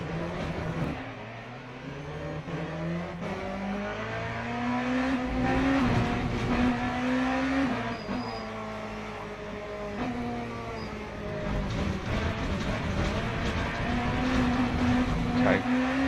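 Le Mans Ultimate hypercar engine in a racing sim, a loud continuous drone rising in pitch through smooth upshifts, holding steady, then climbing again over sixteen seconds, with no talking.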